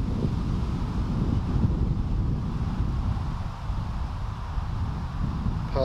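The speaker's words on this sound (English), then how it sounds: "Wee bit windy here today" Steady wind buffeting a microphone, a constant low rumbling roar that continues throughout without any talking.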